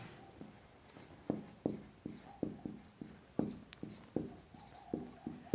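Marker or chalk strokes tap and scrape across a board in quick, rhythmic bursts as chemistry notes are written out, close and distinct with no speech.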